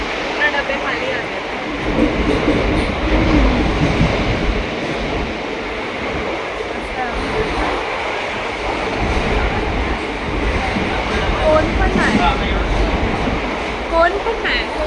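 A passenger train runs along the track in a steady, loud rumble, with carriage rattling and wind noise heard from inside a coach, and no talk.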